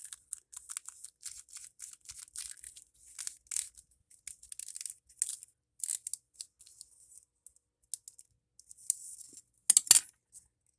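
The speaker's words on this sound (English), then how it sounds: "Twist the chopstick, not the paper." Thin paper twisted around a chopstick while making a paper tassel, giving close, dry crinkling and rustling in irregular bursts, with a louder crackle near the end.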